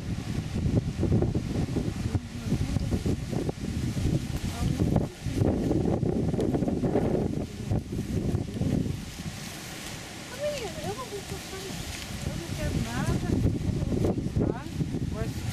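Strong wind buffets the microphone beside a river bend, with continuous rumbling gusts and rustling throughout and people talking intermittently over it.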